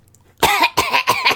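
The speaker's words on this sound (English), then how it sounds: "That was a cough." A person coughs three times in quick succession, close and loud, with short pauses between the bursts and no speech around them.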